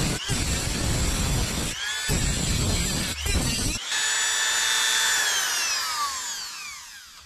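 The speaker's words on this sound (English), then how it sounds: "here's my Dremel motor tool, and I'm just going to go like this and make some sparks." A Dremel motor tool cuts metal on a Corvette hood latch cable, throwing sparks: a loud, close grinding whine that breaks off a few times, then gives way to a high ringing whir as the motor spins down and fades.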